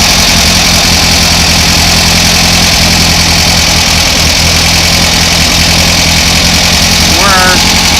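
A Volkswagen 2-liter engine idles steadily with a dense, even mechanical drone and a constant low hum throughout, close and loud.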